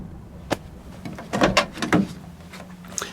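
A 1971 Plymouth GTX car door is handled and closed gently, giving a cluster of soft latch clicks and light thuds up close, with faint background noise and no talking.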